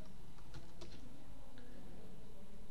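Keys clatter on a computer keyboard during word-processing work in Microsoft Word, a few quick, light taps scattered over a steady low hum, faint and close with no voices.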